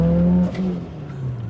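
A Mitsubishi Eclipse GSX with a new turbo and blow-off valve gives a brief, close engine note that drops and settles as the revs fall.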